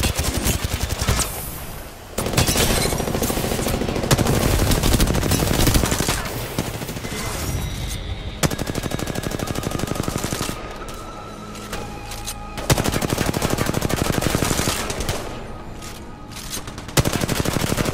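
Rapid automatic gunfire in the Apex Legends battle royale game, loud bursts of machine-gun fire broken by short pauses, with a few single shots and faint game sounds between volleys.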